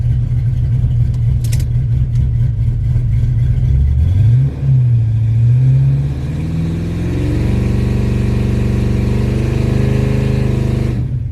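The LS-swapped Chevy S10 idles loudly close by, then its engine revs up and holds a rising, droning pitch against the foot brake, ending in a sustained high-rpm roar.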